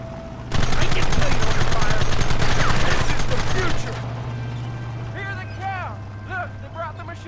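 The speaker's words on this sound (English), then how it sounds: "machine gun." Machine gun fire in the Western game Red Dead Redemption, a loud sustained burst of rapid shots for several seconds before easing off, with game voices and music continuing underneath.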